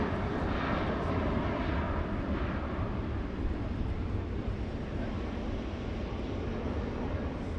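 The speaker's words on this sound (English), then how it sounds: "Is it a private aircraft then, or what?" A steady, broad roar of aircraft engines at Manchester Airport holds at an even level throughout, with a faint wind rush and no talking.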